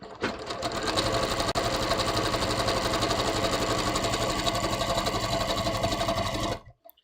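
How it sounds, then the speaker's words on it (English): A sewing machine runs steadily, stitching along the top of a serged edge on knit fabric, its fast even whir loud and close for several seconds before cutting off near the end, with no talking. "I'm just stitching right on top of the serged"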